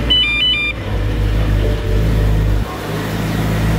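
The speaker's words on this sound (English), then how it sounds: "we're gonna turn the car on" A BMW E92 M3 engine starts and runs, a steady close mid-low rumble with a few brief chimes at the start and a small dip partway through, with no talking.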